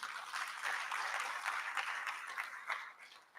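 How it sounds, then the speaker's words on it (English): An audience at a Ghana College of Physicians and Surgeons fellowship induction ceremony claps for the college, a sustained even round of applause with a few louder individual claps standing out. "And can we give another clap for the college?"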